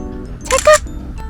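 A camera shutter clicks once or twice in quick succession, close and crisp, while a family photographs a child with a sheep outdoors at a weekend farm; low background noise continues throughout.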